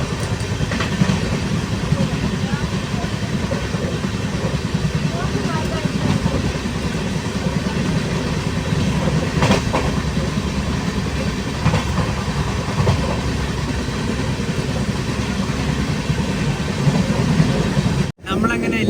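The Donyi Polo Express sleeper train rolls along at speed in Assam, giving a constant loud rumble with clickety-clack of wheels on rails, heard from inside the carriage.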